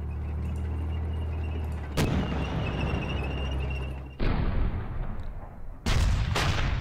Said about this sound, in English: Oops, hit by heavy artillery.